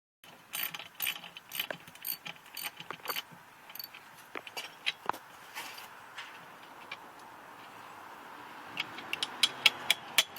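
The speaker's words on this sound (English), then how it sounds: "could just use a ratchet to take it off instead of a regular or a flat screwdriver" Ratchet clicking while backing out a bolt on a 2001 Honda Civic LX engine, quiet close bursts of rapid clicks separated by short pauses, with faint metallic handling between strokes.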